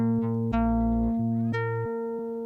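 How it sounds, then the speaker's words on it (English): A sustained, buzzy tone from a QU-Bit Data Bender effect whose pitch abruptly jumps up and down, warped and wavering like tape played back reversed or at shifting speed. "sometimes it will reverse the tape"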